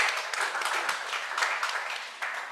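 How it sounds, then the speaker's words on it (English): Applause from an audience at a power-sector dialogue event, a moderately loud spread of many clapping hands with some individually distinct claps, steady throughout and gradually easing toward the end. "Please a round of applause for him."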